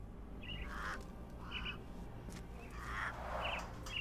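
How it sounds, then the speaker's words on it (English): Caged mynah birds in a video game give several short squawking calls in quick bursts, fairly faint, over a low background hum. "Minor birds, if I'm not mistaken. Beautiful creatures. How sad that they're caged here."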